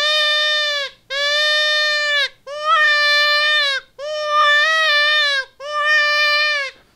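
A Red River Calls Cottontail Distress predator call, hand-cupped to imitate a rabbit in distress, gives five loud, close wailing cries of about a second each, separated by brief pauses, with no other sound.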